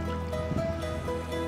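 Cold spring water runs into a bottle at an alpine spot in the Lauterbrunnen and Grindelwald area of Switzerland, a steady close trickle and gurgle that continues without break. No one speaks.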